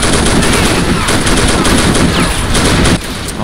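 Sustained, loud machine-gun fire from enemy MG emplacements in the World War II strategy game Faces of War, Walcheren Isle mission, as dense rapid bursts that cut off abruptly near the end.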